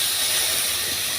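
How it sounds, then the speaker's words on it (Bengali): Sour jujubes hit hot oil for a pickle, producing a loud, close, continuous hissing sizzle that fills the brief moment without any voices. "এখন আমি বোরগুলো তেলে দেব।"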